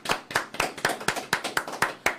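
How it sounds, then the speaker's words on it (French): Quick, evenly spaced hand claps, about ten in two seconds, from a small group applauding John Wesley Delva at the close of the Sunday live broadcast show Retrouvailles on BBJ International; crisp, close and steady, with no talking. "Il faut applaudir ça"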